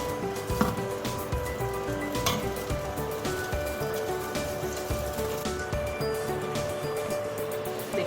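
Masala sizzling and frying steadily in hot oil while being browned, a continuous crackling hiss with occasional stirring scrapes, close and alone with no talking.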